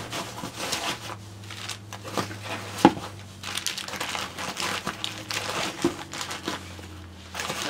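An 8-liter dry bag is handled, its fabric crinkling and rustling in close, irregular bursts with occasional sharper crackles, with no talking.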